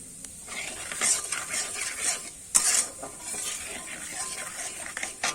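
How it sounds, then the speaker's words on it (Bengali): Whole cumin seeds temper in hot oil left from frying potatoes for a crab curry, a soft crackling sizzle with spoon scrapes and clinks of the pan. "ওই তেলেতেই কিন্তু আমি গোটা জিরে ফোড়নে দিয়ে দেবো"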